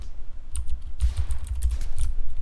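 Quick keystrokes on a computer keyboard while typing a command into Roblox chat: a close, uneven patter of clicks with a few louder taps in the middle, no voices.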